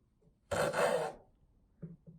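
A hand saw cuts through a wooden dowel in one quick, close rasping stroke lasting about half a second, followed by quiet and faint handling sounds.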